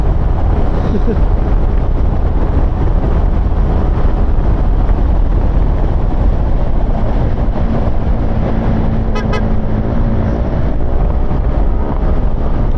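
Heavy, constant wind roar buffeting the microphone while riding a motorcycle, with faint engine drone underneath and no clear speech.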